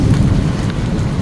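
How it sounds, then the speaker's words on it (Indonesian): Rain begins falling in Mecca under heavy clouds with thunder, a dense steady hiss over a low rumble, loud and continuous with no speech. "Ya, kondisinya udah mulai gerimis ini ya"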